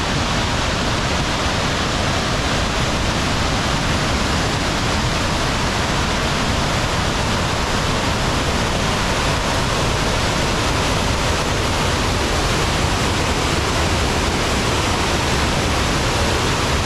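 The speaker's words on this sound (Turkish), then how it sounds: "Yaklaşık 110 metre yükseklikten akıyor şelale şu an ve katmanlı bir yapısı var." Loud, constant roar of a roughly 110-metre tiered waterfall in Norway, a dense rushing wash of water that never lets up, with no voices.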